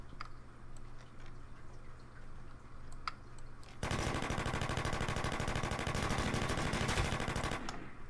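Gunfire in the video game Last Man Standing: after a few scattered faint shots, a rapid sustained automatic burst rattles for about four seconds before stopping.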